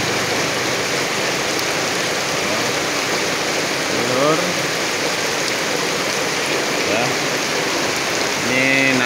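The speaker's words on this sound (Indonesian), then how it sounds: "suasana hujan kayak gini ini saya lari-lari hujan-hujanan" Steady tropical rain pours without a break, a dense close hiss like water on surfaces. Brief voice fragments and other sounds rise faintly over it.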